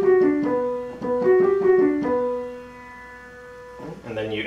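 Solo piano plays the opening measure of a song: a pickup into repeated rhythmic chord and note figures, then a sustained held note ringing out and a final chord struck near the end, clear and close.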